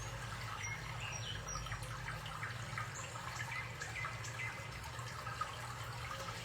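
Water flows steadily in a continuous rushing wash with a low rumble, at an even level throughout and with no voices.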